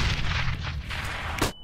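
Grenade blast in a Counter-Strike match on FACEIT: dense, loud rumbling booms across the clip, with a sharp final burst near the end before a sudden cutoff.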